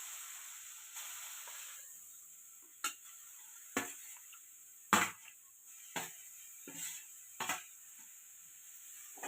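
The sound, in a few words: colostrum milk being stirred and sautéed in ghee in a pan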